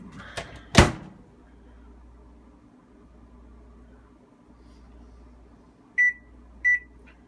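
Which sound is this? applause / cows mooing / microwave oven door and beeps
microwave oven door and beeps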